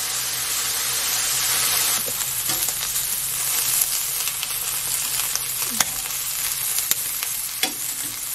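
Chicken heart skewers fry in a pan with a steady, close sizzle and hiss throughout, broken by a few sharp crackles and pops as the fat spits.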